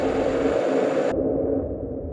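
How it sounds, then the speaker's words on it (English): Electric jug boiling water, looped and EQ'd toward the mids: a steady, dense rushing hiss that loses its upper brightness partway through and continues as a darker, filtered roar. "Jug boiling, we could easily just loop this."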